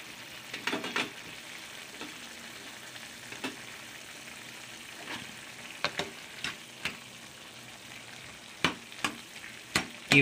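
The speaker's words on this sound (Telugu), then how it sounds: "ఈ విధంగా మనం కలుపుకొని మనం దీన్ని కూడా ఒక 5 నిమిషాలు మనం ఉడికించుకుందాం" Brinjal and mango curry cooks in a pan with a soft, low bubbling sizzle. Sharp spoon-on-pan knocks and scrapes from stirring break in at irregular intervals, fairly close and moderately loud.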